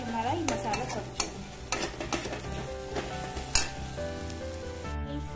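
Masala with coriander powder fries in a pan with a soft sizzle, while a utensil clinks and scrapes against the pan in an irregular series of stirring strokes.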